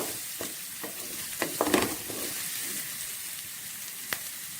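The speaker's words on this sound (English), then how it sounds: "So I'm just giving it a stir." Spicy chicken stir-fry with onion, ginger and garlic sizzling steadily in a pan, close up, while a spoon scrapes and taps now and then as it is stirred.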